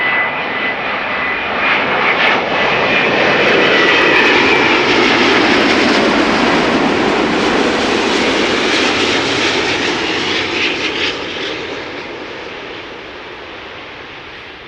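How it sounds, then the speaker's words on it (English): A Qatar Airways Airbus A350-900 arriving at Amsterdam Schiphol from Doha gives a loud, steady jet roar that swells to a peak and then slowly fades as it passes, with no voices over it. "This is Qatar arriving from Doha, A350-900, flight"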